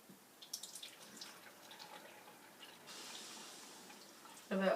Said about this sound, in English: on the other test tube, we will fill up the vinegar.